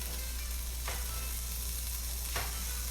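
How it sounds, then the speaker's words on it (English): Diced bacon, five slices' worth, sizzles steadily in a skillet over high heat, a dense continuous fry with two brief stirring scrapes and no talking. "I've got it on high heat right now. I put my 5 slices of diced up bacon in here."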